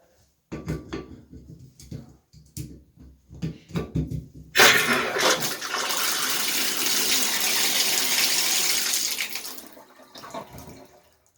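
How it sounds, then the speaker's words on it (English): A shower faucet is turned on after a cartridge replacement, and water gushes loudly and steadily for several seconds to purge air from the line, preceded by clicks and knocks of handling and ending as it shuts off. "turn the faucet on, let it run to get any air out of the line"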